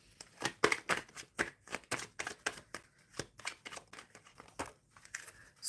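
Tarot cards being shuffled by hand at close range, a quick series of crisp snapping and riffling bursts in an uneven rhythm, fairly quiet with no talk over them.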